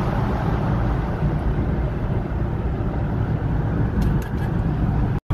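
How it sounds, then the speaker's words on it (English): A car drives down a highway, its steady road rumble and engine drone loud and constant from inside the cabin, with a brief ticking near the end before it cuts off. "This is what it's like driving down the highway"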